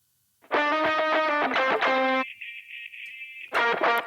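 A lo-fi filtered music sample plays, thick distorted chords that cut off into a thin sustained tone before the chords return, with a soft hiss underneath.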